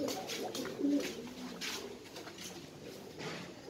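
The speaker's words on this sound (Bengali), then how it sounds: "এটা হলো স্পেশাল একটা কবুতর" Pigeons coo softly in a loft or coop, low rolling calls repeating at close range against a light rustling background, with no talk over them.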